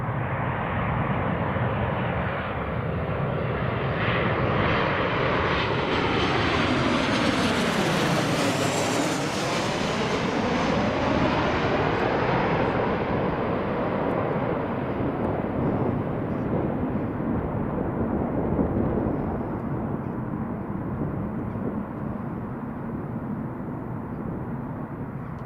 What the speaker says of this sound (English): So here we have Jet2 737-800 landing.